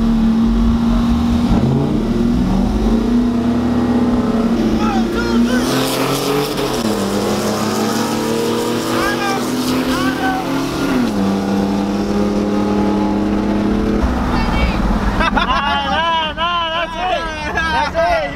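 A GMC 6.0 truck and a Ram R/T drag racing, engines roaring and revving loudly and continuously up close, with shifting pitch as they accelerate, under crowd chatter and voices.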